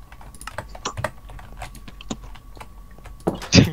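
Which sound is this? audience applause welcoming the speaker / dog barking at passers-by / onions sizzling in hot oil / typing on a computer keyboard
typing on a computer keyboard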